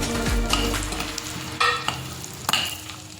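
Cumin, bay leaf, cloves and cinnamon hitting hot oil for a kaju paneer masala, a brief sizzle with a low thump at the start and a couple of sharp spoon taps.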